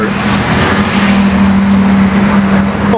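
Porsche GT3 RS with a straight pipe exhaust, a loud, raw, steady engine drone heard close up for a few seconds, with no speech over it.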